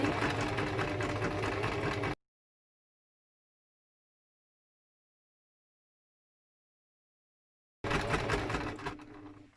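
A home sewing machine runs with a steady mechanical whir for about two seconds, then total silence, then another short run of stitching at the end as the last stitch is finished by turning the handwheel.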